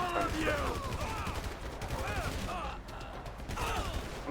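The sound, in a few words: gunfire from video game GTA 5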